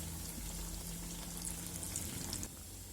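Banana flower vadai fry in hot oil at moderate heat, giving a steady close sizzle and bubbling that runs the whole time and eases slightly near the end, with no voices.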